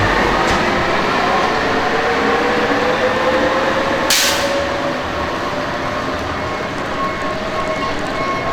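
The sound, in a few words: Bombardier Innovia APM automated people mover train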